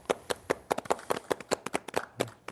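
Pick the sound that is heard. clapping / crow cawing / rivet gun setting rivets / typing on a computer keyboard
clapping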